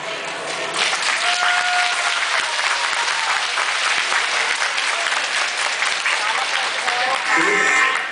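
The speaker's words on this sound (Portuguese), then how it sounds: "Então eu gostaria que todos recebessem eles uma salva de palmas." An audience at Quitandinha gives a sustained round of applause for visiting Polish authorities, dense, even clapping that fills the room for several seconds with a few voices barely surfacing.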